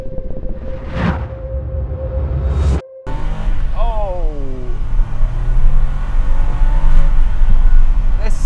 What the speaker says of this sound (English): A very good engine, very good power, good torque.